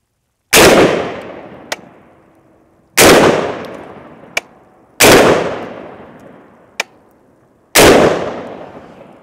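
Four loud .450 Bushmaster rifle shots fired at empty one-pound propane tanks outdoors, each a sharp blast with a long decaying echo, followed by a distant metallic impact, evenly spaced with quiet between.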